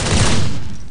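One loud, sharp volley of rifles fired together during a 21-gun military salute, a short blast whose echo decays quickly, with no voices over it.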